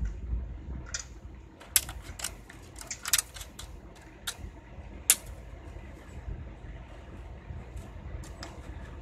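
Sharp snipping clicks and metallic crunches come in irregular bursts, close by, over a low background rumble, as tin shears cut through thin sheet metal.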